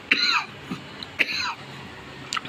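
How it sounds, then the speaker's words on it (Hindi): A man coughs two sharp, dry times about a second apart, each with a short raspy tail, then gives a faint throat-clearing sound near the end, close and fairly quiet, with no talk. "बड़ी मुझे खांसी आ रही 2-3 दिन से।"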